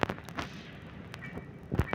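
Gunfire in the Granny horror video game, a few sharp, fairly faint bangs spaced across a short stretch of quiet game ambience.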